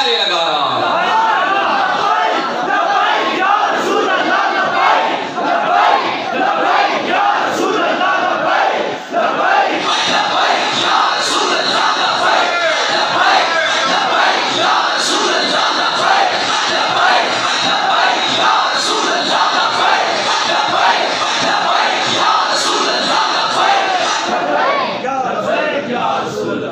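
Large crowd at a religious gathering in Gheela Kalan chanting Zindabad slogans in loud rhythmic unison, with raised voices and yelling sustained throughout and no pause.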